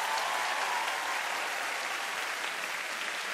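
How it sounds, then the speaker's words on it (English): Studio audience applause for a masked duo on a dance competition show, a dense, even wash of clapping sustained throughout. "Give them a round of applause."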